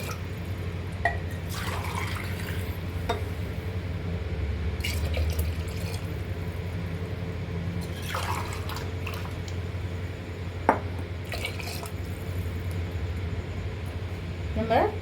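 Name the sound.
pouring water into a pot for biryani rice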